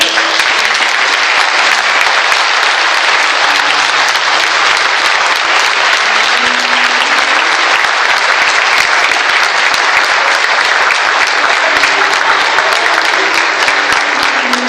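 A Pentecostal church congregation applauds during a service, a loud, dense and sustained clapping that fills the room for the whole stretch, with no speech over it.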